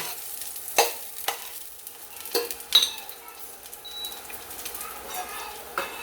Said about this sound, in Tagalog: Sa pagigisa, inuuna ko talaga ang onion bago ang bawang kasi mas madaling masunog ang bawang kaysa sa onion.